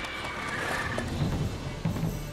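Roach, the horse from The Witcher 3, gives a short close neigh against a hazy in-game ambience, with a couple of faint hoof thumps near the end.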